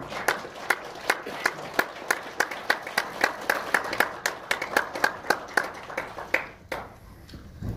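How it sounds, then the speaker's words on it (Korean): Applause welcoming a presidential candidate at a Kwanhun Club press debate: sparse, rhythmic hand claps from a small audience, close and distinct, thinning out near the end. "뜨거운 환영의 박수 부탁드리겠습니다."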